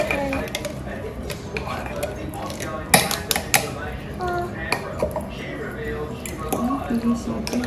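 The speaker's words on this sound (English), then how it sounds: "Now you mix it. Okay. So we mix it now. Be careful when you mix it." Filipino potato salad being mixed with mayo makes wet squishing and scraping noises along with clinks of a utensil against a bowl in irregular bursts, close up, while a person talks intermittently.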